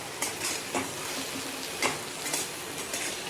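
Ridge gourd bhaji being stirred in a pan while it cooks in village style: scraping spoon strokes come at irregular intervals over a steady background sizzle, close by and moderately loud, with no voices.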